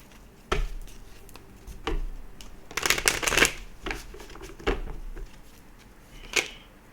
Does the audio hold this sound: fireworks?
no